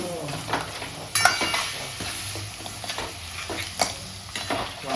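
Small stuffed crabs fry in a thick masala in a pan, giving a close sizzle with repeated stirring scrapes and occasional clinks of the spoon against the metal, with no talking.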